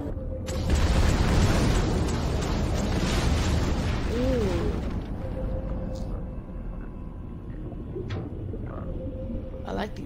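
Mounted guns in Gears of War 3 fire in a long, loud, continuous roar that holds for several seconds and then eases into rumbling, with voices faintly underneath.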